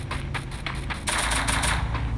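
Gunfire in the mobile shooting game Free Fire: a quick run of about six separate shots, then a louder, denser burst of rapid automatic fire, close and sharp with no talking.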